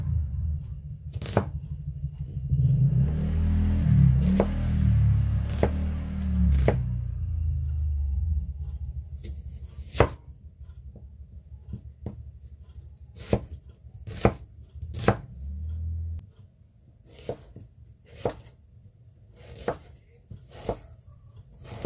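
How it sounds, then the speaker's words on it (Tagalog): Onions and other aromatics are chopped on a board with a knife, starting as a dense rapid run of thuds and then thinning to separate sharp chops, close and distinct, with no talk. "hiwain muna natin yung ating mga pang-ricado. 3 sibuyas."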